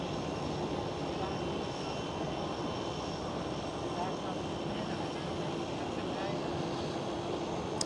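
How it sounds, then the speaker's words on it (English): Transavia Boeing 737 jet engines spool up after pushback at Amsterdam Schiphol, a steady broadband roar with a faint whine, heard from a distance as a continuous wash of noise. A voice talks over it. "Transavia 737 has just pushed back, starting up the engines right now"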